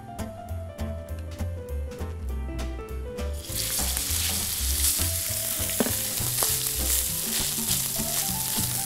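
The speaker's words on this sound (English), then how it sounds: "Once you place the steak on the pan, you don't need to move it around." Steak seasoned with coarse sea salt searing in hot olive oil in a pan, with a loud, steady sizzle that swells into a broad hiss after a few seconds, with some light clinks, and no talking.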